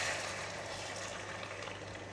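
Egg frying in hot onion oil in a pan for an omelette: a faint, steady sizzle without any talking.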